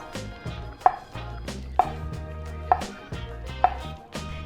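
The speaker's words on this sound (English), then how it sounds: "Lay the avocado flat and then use a large knife to cut it into slices" A large knife slices through an avocado onto a cutting board, four evenly spaced crisp knocks against the board with soft cutting sounds between them, close and alone.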